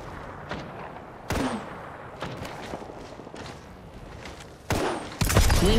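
Video game gunfire: several sharp, loud shots and bursts spaced irregularly over a steady background rumble, growing heavier toward the end.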